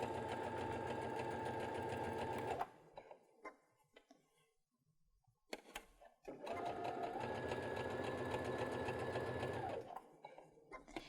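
Baby Lock sewing machine fitted with a garment maker foot, stitching in two steady, loud runs of rapid mechanical whirring separated by a quiet pause with a few faint handling noises.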